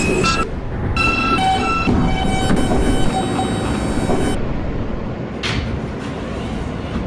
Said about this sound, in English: This is a Middle Village Metropolitan Avenue bound M local train.